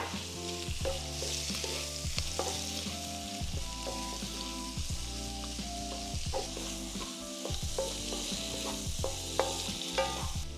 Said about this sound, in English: I'm gonna go ahead and add my shrimp now.